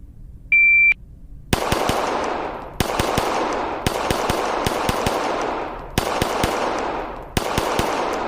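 Pistol shots fired in quick bursts during a red dot holster drill, following a short electronic start beep; several separate strings of sharp, loud reports with brief pauses between groups, ringing echo after each shot.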